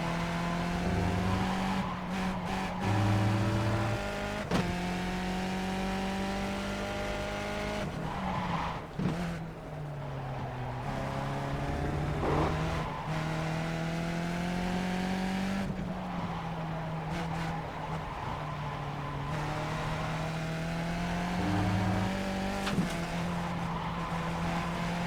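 A race car in the iRacing simulator runs a full lap, its engine droning and rising and falling through gear changes, with tires squealing and skidding through the corners for most of the stretch.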